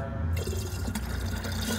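Water pours steadily into the coolant tank of a broken Ford F-150 SVT Lightning pickup truck, a continuous close rushing and splashing fill with no talk.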